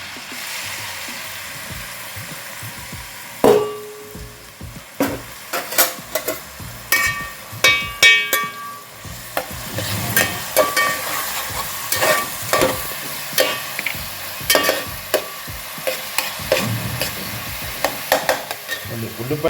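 Chopped onions go into hot oil for a crab curry, with a sharp hiss when they hit, then a steady sizzle broken by repeated clacks of a spoon stirring against the pan, close and fairly loud.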